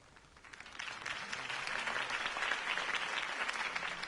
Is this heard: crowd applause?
yes